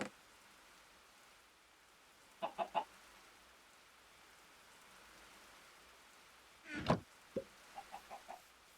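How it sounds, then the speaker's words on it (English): Chickens in a modded Minecraft game give two short bursts of rapid clucks, a few seconds apart, over a soft steady patter of rain. "We gonna have to get some flint chickens now."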